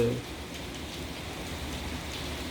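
Heavy rain falls steadily in Istanbul, a dense, even hiss of drops on surfaces that runs the whole time after a brief louder start.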